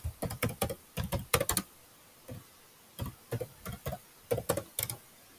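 Fingers type a search query on a computer keyboard, close and fairly quiet, in quick bursts of clicking keystrokes separated by a brief pause, with no voices.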